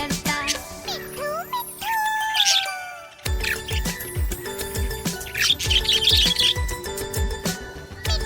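A pet budgerigar chirps and twitters in quick, varied bursts, with rising whistles and trills over a busy musical backing that continues throughout.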